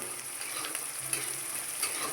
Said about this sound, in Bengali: পেঁয়াজটা হাত থেকে একদম পড়ে গেছে তেলের উপরে